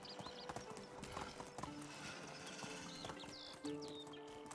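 Hooves of a horse in Medieval Dynasty clip-clop in a steady galloping rhythm, with brief whinnies, faint bird chirps and a soft ambient background.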